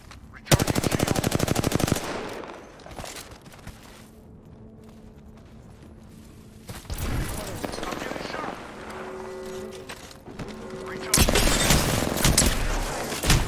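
Video game battle royale gunfire in dense automatic bursts, loud bursts at the start and end with scattered shots and game effects between, while squad players talk over it.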